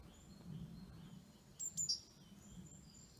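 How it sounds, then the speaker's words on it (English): Around ten blue tits call in short, high chirps while feeding near a woodland camp with a Swedish torch fire, faint and somewhat distant over a low background rumble, with a brief louder burst of calls midway. "10 blue tits come down and start feeding."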